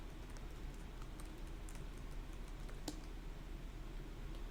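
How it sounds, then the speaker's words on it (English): Soft, quick keystrokes on a computer keyboard as a game score is typed in, faint and steady clicking with one slightly sharper tap, no talk. "Let's type in the score"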